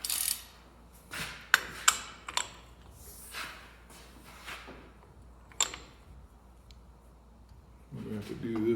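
Hand wrench working the hub nut on a Jeep Wrangler wheel hub during a unit bearing change, giving a few sharp metallic clicks and clanks in short irregular bursts, close by, with quiet gaps and some background rustle.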